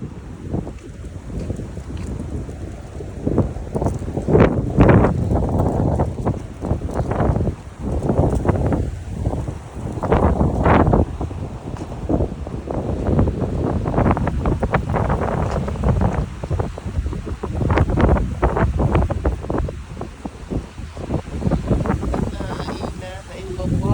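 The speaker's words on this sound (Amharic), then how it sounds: "እኔ ለመጀመሪያ ጊዜ ውጭ ወጥቼ እንደዚህ አይነት ንፋስ ሲያጋጥመኝ ማለት ነው" Strong storm winds roar outdoors during a severe wind storm in America, buffeting loudly in continuous gusts with heavy wind noise on the microphone throughout.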